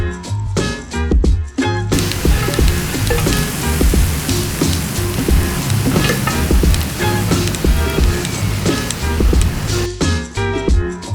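Korean pork cuts, moksal and hanjeongsal, sizzle loudly on a grill at a cafe and grill restaurant in Angeles City. A dense, continuous crackling hiss fills the whole stretch, with brief gaps near the start and end.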